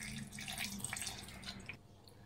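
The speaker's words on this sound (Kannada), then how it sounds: "ಇದಕ್ಕೊಂದು ಸ್ವಲ್ಪ ನೀರು ಹಾಕೊಂಡು ನುಣ್ಣಗೆ ಇದು ಗ್ರೈಂಡ್ ಮಾಡ್ಕೊಬೇಕಾಗತ್ತೆ." Water is poured into a mixer jar holding masala with sambar powder for grinding, making a brief trickling splash that stays fairly quiet, then tapers off and stops.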